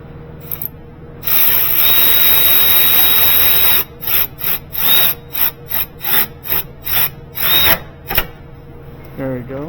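10mm bolt on a 2023 Kia Niro horn tightened with a ratcheting tool, first a long steady run of clicking, then about eight short bursts of ratcheting in a quick stop-start rhythm, close up.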